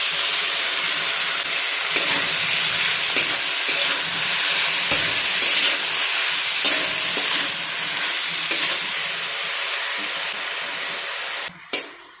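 Fenugreek greens stir-fried with salt in a pan, heard as a loud, steady hiss of frying with periodic spatula taps against the pan and a final sharp clank near the end.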